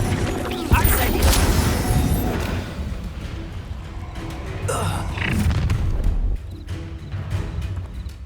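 Incendio fire spell blasts in Hogwarts Legacy: booming, crashing bursts of magical impact repeating over a steady rumble, loud and close, with voices speaking over the combat.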